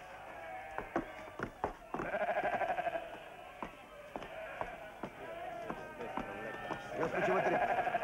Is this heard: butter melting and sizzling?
no